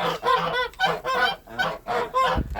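A domestic gander honks loudly and repeatedly at close range, harsh calls in rapid bursts with short gaps, while attacking its keeper at a nest with eggs.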